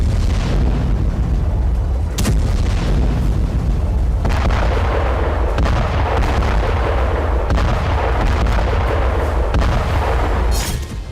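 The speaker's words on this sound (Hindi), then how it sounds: "हवा से हमलों के साथ गाजा के करीब तैनात आर्टिलरी से भी प्रहार जारी है" Artillery fires near Gaza, with several heavy booms at uneven intervals over a loud, continuous low rumble.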